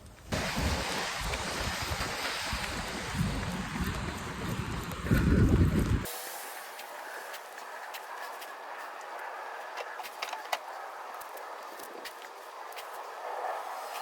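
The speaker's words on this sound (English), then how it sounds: "pouring rain" Steady broadband hiss of heavy rain pouring down close by, with a louder gusty rush early on before settling into an even, continuous downpour.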